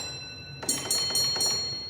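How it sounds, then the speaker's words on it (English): Railway signal box bell on a Lancashire and Yorkshire Railway training layout, struck in four distinct rings in even succession, each with a bright metallic tone that rings on briefly, heard close and clear in a quiet room. "Now the express passenger train is 4 beeps on the bell."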